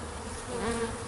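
Robber bees buzz outside a beehive entrance, a steady, dense insect drone filling the whole moment without pause, moderately close.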